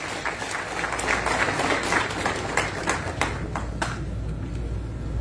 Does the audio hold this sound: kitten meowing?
no